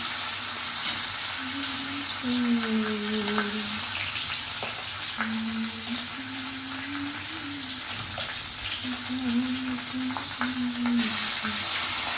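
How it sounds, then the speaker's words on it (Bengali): Fish frying in hot oil in a home kitchen, a continuous loud sizzle and crackle throughout with a faint tonal whine drifting above, no talk. "তো চলো মাছগুলো ভাজতে শুরু করি"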